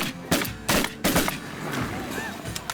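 Shotgun blasts during a goose and duck hunt, three or four loud reports spaced irregularly over a noisy outdoor background, with voices faintly around them.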